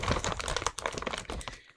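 Plastic parts bag from a Tamiya M-07R RC car kit crinkling as it is handled, close, irregular rustles and crackles over under two seconds, no voices.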